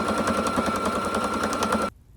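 A sewing machine runs steadily and close, stitching straight quilting lines across a padded dish dryer mat with rapid even needle strokes, then stops abruptly.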